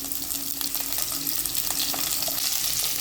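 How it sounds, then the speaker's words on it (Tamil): Small onions and curry leaves frying in oil for Chettinad sambar make a steady, dense sizzle with scattered crackles and pops, close and continuous throughout with no voices. "இப்போ இந்த வெங்காயம் கொஞ்சம் வதங்கட்டும்."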